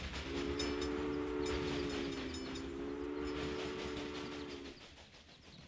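Trains run in the Railway Empire video game: a steady rumbling rolling noise with a sustained horn-like tone for several seconds that then cuts off, leaving quieter running sound.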